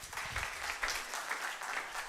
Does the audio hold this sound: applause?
yes